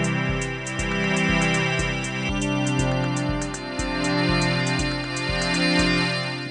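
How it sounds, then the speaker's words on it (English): An 808 drum kit pounds a steady, even beat of deep kicks and crisp hi-hats beneath a sustained organ-like synth pad that swells and fades in regular waves. "I've set up an 808 kit and a organish pad effect sound here"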